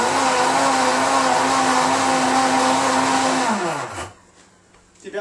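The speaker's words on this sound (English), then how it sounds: "blend it again" A countertop blender whirs loudly and steadily while being rinsed out with hot water after making a protein shake, then its motor winds down and stops, leaving quiet room tone.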